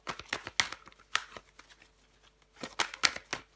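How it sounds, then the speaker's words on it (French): Tarot cards are shuffled and handled up close, with quick crisp riffling bursts and slaps in two clusters separated by a brief lull. "Je vais recouvrir des cartes."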